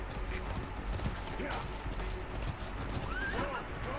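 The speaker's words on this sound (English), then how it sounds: "I like to call D-Horse just to use them as a kind of a roadblock" D-Horse, the horse in Metal Gear Solid 5, gallops with fast hoof clip-clops under game noise, a short whinny rising near the end, and a voice talking over it.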